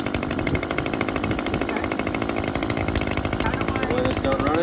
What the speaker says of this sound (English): Now, the weed whacker awaits.